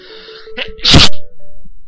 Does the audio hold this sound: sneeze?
yes